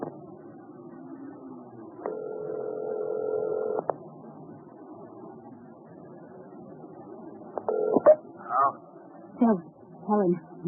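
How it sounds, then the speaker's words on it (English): A payphone being dialed: a steady dial tone holds for about two seconds, then a short burst of tone and several quick clicks and rotary-style pulses follow, close and clear, with faint background noise and some voice-like sounds. "I'm calling from a payphone"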